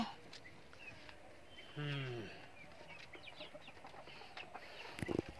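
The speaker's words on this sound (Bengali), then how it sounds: "এই পাশে মুরগি আছে অনেকগুলা" Desi chickens on a poultry farm in Dhamrai give one clear, drawn-out cackling call nearby, followed by scattered softer clucks and faint chirps against a quiet background.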